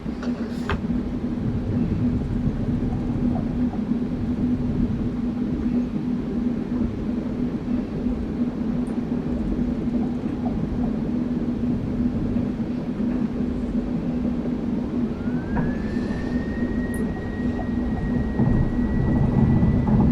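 PMDG 737 on its takeoff roll in Microsoft Flight Simulator 2024, a steady loud jet engine roar with heavy low rumble throughout, a rising tone joining near the end as the aircraft accelerates down the runway.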